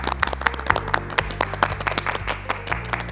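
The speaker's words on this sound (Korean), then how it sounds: "그럼 박수로 청해 듣도록 하겠습니다." Applause from a studio audience at a morning-show New Year lecture in Daegu: sharp, close claps in a quick, irregular patter over a low sustained musical tone.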